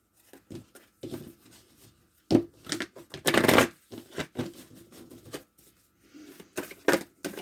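Tarot cards being shuffled by hand, close papery riffles and flicks in irregular bursts, with one longer louder riffle in the middle and quieter taps around it.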